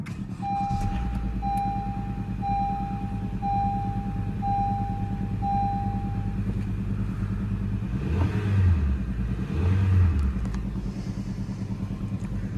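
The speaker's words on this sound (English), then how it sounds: "press the engine start button to start" A 2014 Honda Accord EX-L Coupe engine starts by push button and settles into a steady low idle while a repeating electronic chime beeps, followed by two short revs near the end.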